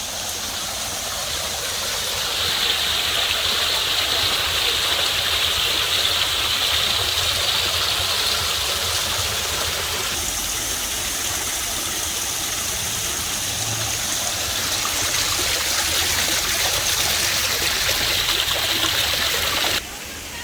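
Steady rushing water pours continuously, a broad roaring wash that stays even throughout before cutting off abruptly near the end.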